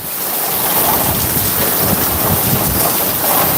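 Heavy rain pours down in Talaja, a dense, loud roaring wash of noise heard steadily over a phone line, with no voices.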